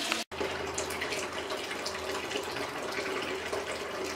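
Wort from all-grain first runnings pours steadily from a mash for a pale summer ale with Saaz, Cascade and Citra hops, a continuous close trickling splash that stops abruptly for a moment near the start and then flows on.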